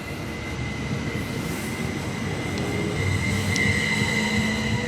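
An S3 commuter train passes on the line near Bochum, Germany, a steady loud rumble of wheels on rail with faint squeals, growing slightly stronger toward the end, with no voices.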